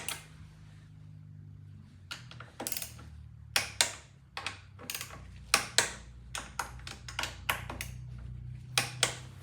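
A cheap Harbor Freight torque wrench tightens a brake caliper bolt on a V-Strom 800 DE motorcycle, giving close, crisp bursts of rapid ratcheting clicks in uneven clusters, loud and alone without speech.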